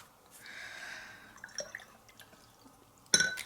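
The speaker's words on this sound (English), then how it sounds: "I'm going to get my water squirter, give it a good old squirt" A water squirter spraying onto a watercolor painting of magnolia flowers, a soft misting hiss, then a few small clicks and a sharper spray burst near the end, close and quiet.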